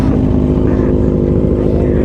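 Kawasaki ZX25R motorcycle fitted with an Aero ProRes exhaust, idling and revving up close: a loud, dense, raspy engine drone that holds steady and rough.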